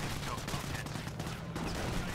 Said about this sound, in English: another barrage onto that sector again